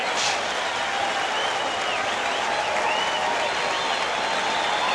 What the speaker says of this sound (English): as one they stand and applaud